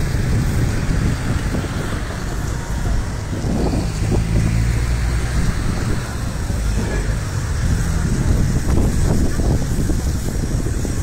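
Cars pass steadily on a road at a city entrance, their engines and tyre rumble surging and fading close by under gusty wind noise, with no clear talk.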